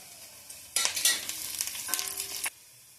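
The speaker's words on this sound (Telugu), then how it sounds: "ఉల్లిగడ్డ కొద్దిగా మెత్తబడేంత వరకు వేయించుకోవాలి." Sliced onions and curry leaves hit hot oil in a pan, bursting into a loud sizzle that crackles for under two seconds and then cuts off abruptly.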